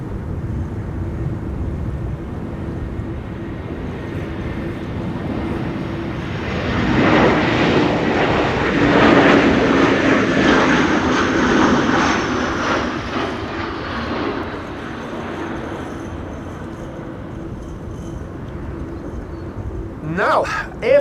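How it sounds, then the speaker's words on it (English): An easyJet Airbus A320 lands at Schiphol in high winds, its engine roar building from a distant hum to a broad swell mid-clip before fading under gusty wind, with a voice talking intermittently. "EasyJet next, flight 22921, arriving from Bristol,"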